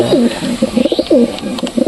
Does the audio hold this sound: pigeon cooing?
yes